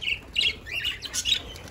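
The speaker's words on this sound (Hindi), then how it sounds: "तो हमारे पास चिड़िया बहुत ज़्यादा है" Small birds chirp and squawk at a feeder set out with grain and water beside a cage, several quick, bright calls overlapping in close, irregular bursts.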